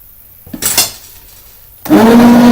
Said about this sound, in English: you want to continually scrape down the edges of your bowl